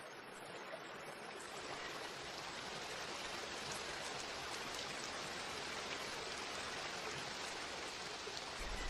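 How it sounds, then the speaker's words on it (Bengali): Steady rain patters and hisses in an animated cartoon scene, an even, fairly quiet wash of drops with no voices. "আর এই তো বৃষ্টি চলে এসেছে।"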